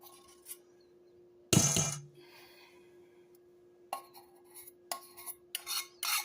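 Metal spoon or spatula scraping and clinking against a mixing bowl while making a banana pudding cream cheese pie, one loud scrape early, then a quiet pause and a run of short scrapes and clinks near the end, over a steady faint hum.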